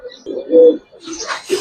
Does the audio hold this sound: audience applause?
no